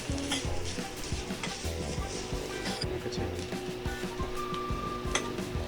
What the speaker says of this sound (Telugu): ఈ నేతిలో ఈ కొబ్బరి తురుముని మీడియం ఫ్లేమ్లో వేయించాలి